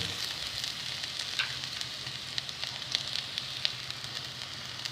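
Chicken pieces sautéing in a pan give a soft, continuous sizzle with small crackling pops, moderately quiet and close, with no voices.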